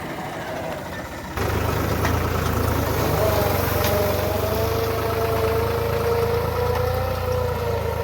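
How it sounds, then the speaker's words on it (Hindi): A tractor ploughing a field ahead of wheat sowing, its engine a steady close drone with a low throbbing note that holds at constant loudness after a quieter opening. "और दूसरी दफ़ा अभी हल चलाई जा रही है ट्रैक्टर के साथ"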